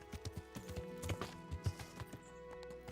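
Horse hooves clip-clop in a steady, uneven rhythm in the Nightreign video game, moderately quiet and alone, with no voices over them.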